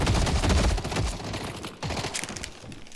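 Gunfire from Goo's right-click weapon in a video game, a dense burst of shots that rattles for most of the stretch and then resumes after a short drop, loud and close with no talk.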